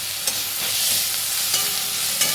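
Garlic and ginger paste frying in a pan for a rohu fish curry, a soft steady sizzle with a few brief stirring clinks, close and moderate, no speech.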